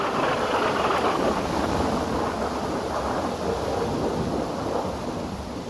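Heavy monsoon downpour over the Jodhpur area hisses in a dense, steady roar, with low rumbling thunder blended into the wash throughout.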